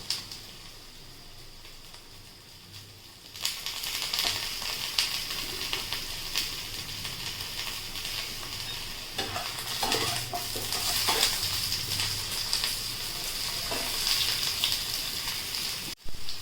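Vegetables including pointed gourd frying in a pan, stirred with a utensil. A steady sizzle runs throughout with repeated scraping and stirring, close and fairly loud, after a quieter start of about three seconds.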